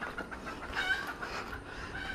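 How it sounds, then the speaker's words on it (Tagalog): A chicken clucks at a moderate distance in the Lucban, Quezon Province area, with soft, repeated clucks over steady outdoor background noise. "Sino yun? Manok nino yun?"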